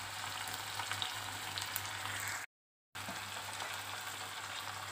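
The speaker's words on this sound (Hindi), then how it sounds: "इन सबको डाल के अच्छे से भूनेंगे जब तक कि टमाटर अच्छे से सॉफ्ट ना हो जाए" Spices and tomatoes fry in a pan for Sindhi dal pakwan, giving a steady, dense close sizzle with a brief dropout partway through.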